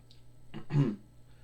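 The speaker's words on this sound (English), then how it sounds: "Except for clearing my throat." A single short, rough throat clear, close and fairly quiet, with brief low grunting bursts and no speech.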